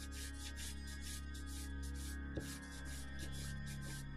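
The side of a crayon sweeps back and forth across paper to color a sky, a quiet close rhythmic scratching of repeated strokes over a low hum.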